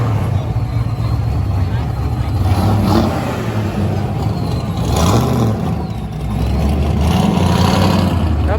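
A turbocharged car at an exotic car meet revs loudly and close by in repeated surges, with people talking over the engine throughout.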